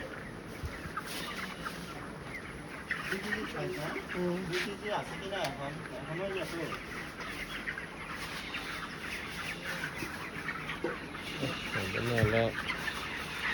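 Chickens cluck at a Tripura poultry farm, a steady flock chatter with some louder individual calls near the end, mostly under ongoing conversation between people.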